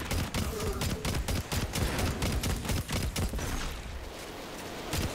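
Rapid gunfire and a rocket launcher firing during a Destiny 2 Master Nightfall battle, with dense repeated loud bursts through the first four seconds and then a lower rumbling tail.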